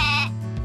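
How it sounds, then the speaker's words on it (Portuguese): A sheep gives a single short, close bleat over a low musical backdrop. "Sheep."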